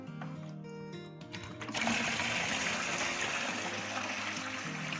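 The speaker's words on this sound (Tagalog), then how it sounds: "susunod na po natin na lagyan po ng tubig, yung mineral po" Mineral water pours into a fabric conditioner mixture, starting as a faint steady whir and then becoming a loud continuous splashing rush of liquid that runs to the end.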